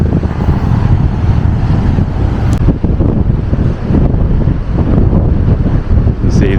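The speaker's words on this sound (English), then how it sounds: "I'll stand like this, it might cover the wind a bit." Strong wind buffeting a microphone on a sandy beach at Ingoldmells, a loud continuous roar with gusty rumbling and possible surf underneath, no speech.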